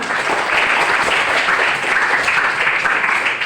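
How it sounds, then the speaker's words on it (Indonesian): A group of teachers in an Indonesian class or workshop session applauds together, dense, even clapping that fills the space at close range and holds steady throughout without a break. "Tepuk tangan buat kita sama."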